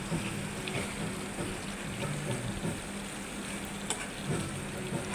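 Chicken, capsicum and peeled garlic cloves fry in oil with a steady, close crackling sizzle that continues throughout, broken by occasional faint clicks.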